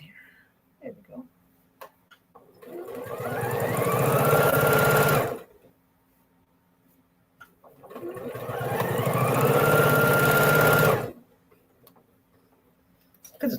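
A sewing machine stitches fabric in two sustained runs of steady, rapid mechanical chatter, close and clear, separated by quiet pauses with small handling clicks.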